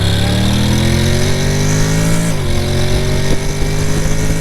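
Honda Forza 750 2025 scooter with a DCT dual-clutch gearbox accelerating, its engine note rising steadily, then dipping at a gear change and climbing again, loud and close, with no talking.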